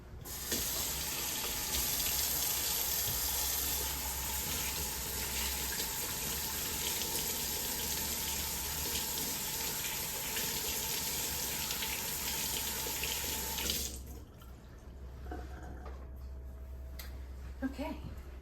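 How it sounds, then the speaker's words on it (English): A kitchen tap runs steadily for hand washing before cooking, a loud, even gush of water that stops abruptly near the end, leaving a quiet room. "we're gonna wash our hands"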